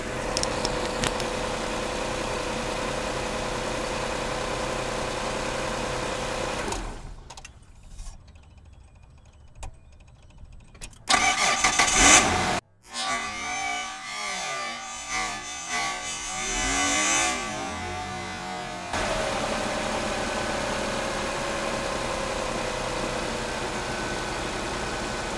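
A vehicle engine idles steadily, then shuts down and goes quiet, cranks back to life with a short burst of starter noise, and settles into a steady idle again; the engine is charged by an alternator on LiFePO4 cells.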